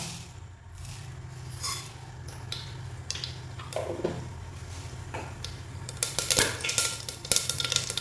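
Mustard seeds sizzle in coconut oil in a pressure cooker, a steady hiss with scattered popping crackles and a few light metallic clinks that grow louder and denser toward the end, close by and without talk.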